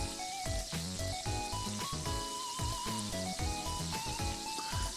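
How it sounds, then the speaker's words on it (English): Dry-brined steak sizzling in hot frying fat, a dense, steady crackle and spatter running continuously under a layer of music. "Oh, I just love the sound of that frying fat"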